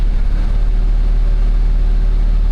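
A 1995 Geo Prizm engine idling in first gear with the clutch pressed, giving a steady, loud low rumble close to the car with no change in pace.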